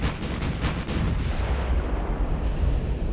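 Warship turrets fire in Ultimate Admiral: Dreadnoughts, a rapid run of heavy booms at first that blends into a continuous loud rumbling roar of naval gunfire.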